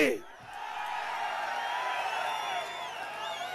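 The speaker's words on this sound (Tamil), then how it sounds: "இந்த மக்களுடைய ஆரவாரம் மகிழ்ச்சி" Large crowd at a political campaign rally in Tamil Nadu cheering and whooping together in a loud, sustained roar, with shouts rising above the dense continuous noise.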